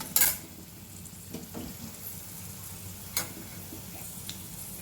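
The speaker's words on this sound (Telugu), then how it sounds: "పోపు రెడీ అయిపోయింది. మనం తాలింపు చేసుకుందాం." Cumin, curry leaves and a pinch of turmeric sizzle quietly in a pan of hot oil for a lentil tempering, with occasional sharp stirring clicks and taps against the metal.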